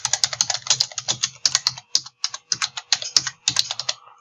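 Rapid typing on a computer keyboard, a dense run of sharp key clicks in quick bursts with brief pauses, close and crisp with no voices.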